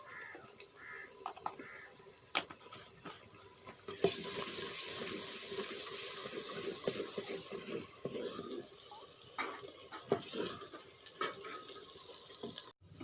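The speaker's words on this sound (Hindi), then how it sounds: "अब इसमें हम थोड़ा सा पानी डालेंगे" Water runs into a pan of lightly browned onions while cooking potato and spinach sabzi, a soft trickle that turns into a louder, steady pour partway through, with a few clinks and no speech.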